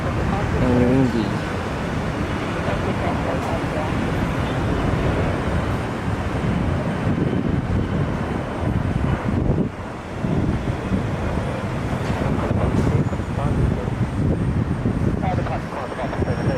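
A Boeing 767 airliner lands on runway 01 left at Brisbane Airport, a broad steady roar of engine and wind noise heard from a distance, with voices talking over it.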